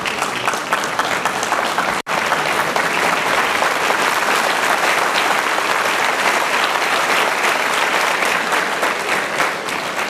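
A standing audience at a talk on success applauds itself, loud dense clapping sustained for about ten seconds, with a brief cut near the two-second mark.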